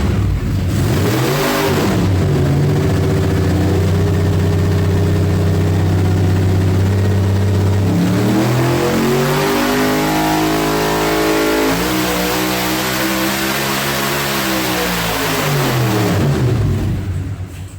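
A 472-cube Godzilla V8 on its first test run, idling loudly, then revving hard in sweeping climbs and falls, and settling back to a lumpy idle, close and powerful, no talk.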